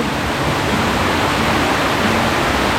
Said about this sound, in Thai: ก็มีน้ำตกนะคะ